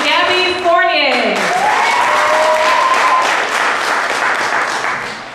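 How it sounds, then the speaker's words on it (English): A stage-show audience gives contestants a sustained round of applause in a hall, with a short tonal sound at the start and a voice talking over the clapping. "give her a nice round of applause"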